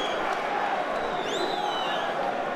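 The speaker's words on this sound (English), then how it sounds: "Crowd respond to that as well" A boxing arena crowd reacts to a punch landed after the bell, a steady dense murmur and roar of many voices, with a commentator talking over it.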